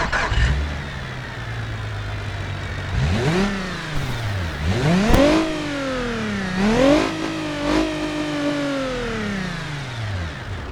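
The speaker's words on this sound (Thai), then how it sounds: "เดี๋ยวเรามาฟังเสียงเครื่องยนต์กันเลย" A Nissan Maxima engine revs repeatedly in a video game, pitch sweeping up and down in several strong surges after a low idle, loud and close with no talking.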